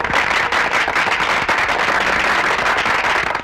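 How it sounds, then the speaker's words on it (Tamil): Firecrackers bursting in a rapid, dense crackling string, loud and close, sharp pops overlapping continuously without pause. "துப்பாக்கி சத்தம் கேட்காம பட்டாசு வெடிக்கிற சத்தம் கேட்கறத"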